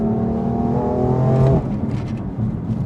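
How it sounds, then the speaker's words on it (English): BMW M4 with an aftermarket exhaust removed, heard from inside the cabin in sport mode: a droning engine note with rising harmonics that swells, then cuts to a quieter rumble partway through. "You can probably hear the exhaust becomes a little louder inside the cabin."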